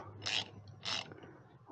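Two short bursts of ratchet clicking, close and distinct, as a ratchet loosens stubborn bolts during an AC compressor change on a 2014 GMC Sierra 1500, with quieter workshop noise between them.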